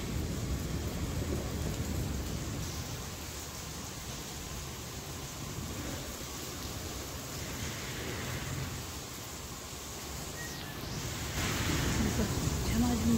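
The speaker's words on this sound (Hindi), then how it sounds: "सुबह सुबह बारिश हो रही है।" Rain falls on a morning in the hills as a steady, close hiss of drops with a low rumble underneath, swelling slightly toward the end, and no clear voices.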